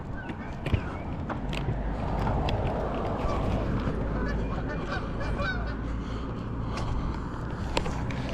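Several geese honk repeatedly nearby in Las Vegas over a steady background rumble, their calls overlapping in loose, irregular bursts.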